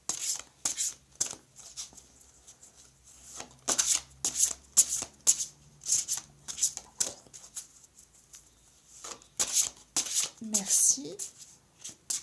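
Tarot cards being shuffled by hand during a weekly reading, repeated crisp riffling bursts in quick succession, close and fairly loud, with a brief voice near the end.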